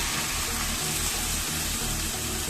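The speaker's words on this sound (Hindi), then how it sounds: "इसके अंदर अपन 1 गिलास पानी डाल देते हैं" A glass of water pours into a hot pan of fried stale roti breakfast mix, a loud continuous gushing splash with hissing that holds steady throughout.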